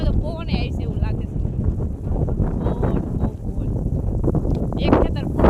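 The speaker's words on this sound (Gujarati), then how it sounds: "હવે તો પવને આઈ છે એવું લાગે" Gusty wind buffets a handheld microphone outdoors along a road near farm fields, a loud, rumbling roar that swells and dips throughout, with faint voices underneath.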